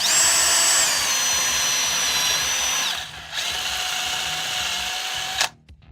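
A small power drill whines at high speed in a workshop during minor modifications to a radio-control submarine boat; the motor pauses, spins up again, then stops with a brief clatter.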